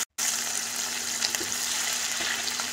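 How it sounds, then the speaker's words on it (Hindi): Cumin seeds and cut green chillies sizzle and crackle in hot oil in a kadhai, a constant close frying hiss with small pops and stirring scrapes, after a brief instant of quiet at the start. "तेल गरम हो गया है, मैं इसमें आधा चम्मच जीरा डाल दूंगी।"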